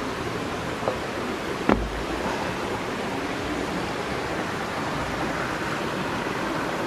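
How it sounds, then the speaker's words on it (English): Water flows steadily at Huay Keaw Waterfall near Chiang Mai, Thailand, a constant broad rushing wash heard close, with a couple of faint knocks early on. "Or flowing water, rather."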